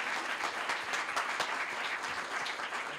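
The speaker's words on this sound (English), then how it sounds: "Let's give him another round of applause" A student pitch competition audience breaks into steady, dense applause, many hands clapping together at a constant level for the full stretch with no voices on top.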